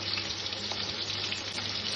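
Green chilies dropped into hot oil in a pan with frying vegetables, giving a loud, steady, dense sizzle throughout with no pauses and no voices.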